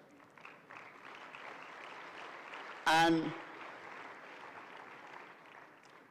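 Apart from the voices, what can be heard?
audience applause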